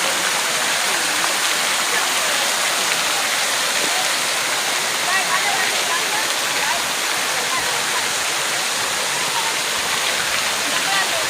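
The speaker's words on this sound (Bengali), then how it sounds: "তো এই হচ্ছে ঝর্ণা।" A waterfall in Italy roars steadily and close by, a dense unbroken rush of falling water that holds level for the whole stretch.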